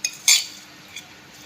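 Utensils clink and scrape against a bowl as boiled potato, green chili, onion and tamarind are tossed together for aloo kabli, two sharp metallic knocks followed by a softer tap, close and alone.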